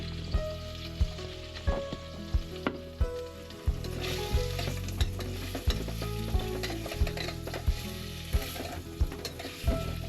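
Noodles with tofu, carrots, coconut milk and red curry cooking aboard a sailboat, with continuous sizzling and frying punctuated by sharp, regular clinks of a utensil stirring against the pan.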